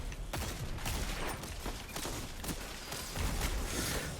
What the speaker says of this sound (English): I cannot get out of the way of the gunfire.